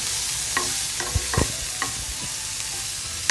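Grated radish stir-fries with onion and spices in a pan, giving a steady sizzle broken by several sharp spatula scrapes and taps over a few seconds.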